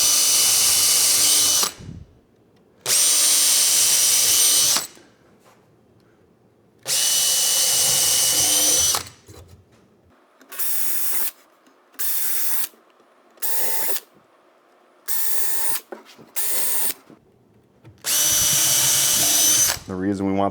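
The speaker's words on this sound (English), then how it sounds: "now we're going to put the screw in, and we want it to bite on that hole" A power drill drives 1 1/4 inch Kreg screws into a wooden drawer, with several loud, close whirring bursts of a few seconds each. Shorter spurts come in the middle, and each burst is separated by quiet gaps.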